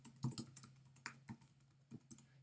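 Rapid, uneven clicking of a computer keyboard as someone types an assignment name; a quiet, close string of light keystrokes with no voice.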